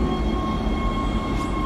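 Steady rumbling train ride in the Dead Space sci-fi horror game, a dense continuous roar with a faint high whine, no voices.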